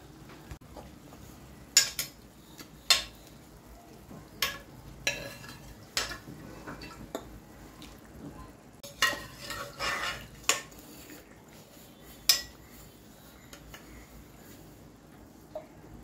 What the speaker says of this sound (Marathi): हे असं मटण टाकून फिरवून घ्यायचं आहे